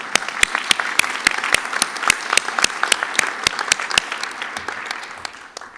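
Audience applause for a band leader at a city inaugural ceremony in a performing arts center: steady, dense clapping from a sizable crowd, with sharp individual claps standing out, thinning and fading toward the end.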